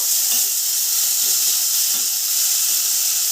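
Two spoonfuls of ginger garlic paste fry in a hot pan for a falui fish curry, giving a steady, close, even sizzle that holds without a break, with no talk over it.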